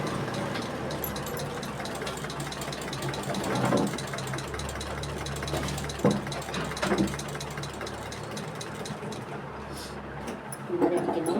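A sewing machine works slowly and carefully on a high neck collar with canvas, giving a low continuous motor hum with occasional clunks and short bursts of stitching.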